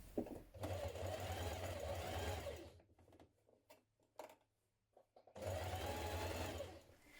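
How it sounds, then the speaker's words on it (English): A sewing machine understitches the armhole facing of a jumpsuit, running in a loud, steady mechanical whir, pausing for a few seconds with faint handling sounds, then starting up again. "you're going to understitch on the side of the facing, the armhole"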